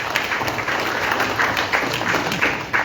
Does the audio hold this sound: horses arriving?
no